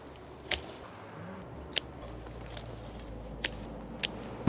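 Scissors clip lemons from greenhouse trees on a Jeju lemon farm during harvest, giving about five sharp, separate snips spaced roughly a second apart over a quiet, faintly hissing background.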